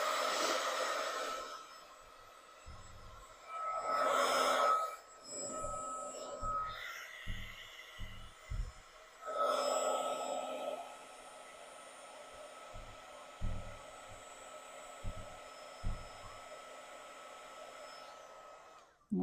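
A heat gun blows steadily over embossing powder during a craft project, a loud whooshing roar in several bursts with short pauses and faint handling clicks between, ending in a longer continuous blast.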